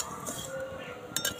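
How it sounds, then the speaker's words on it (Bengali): A spoon scrapes and clinks against a metal pan while dry semolina is stirred and lightly roasted with salt for a milk-based pitha, light scraping under quiet background with a couple of sharper clinks near the end. "সুজিটা একটু নেড়ে নেব"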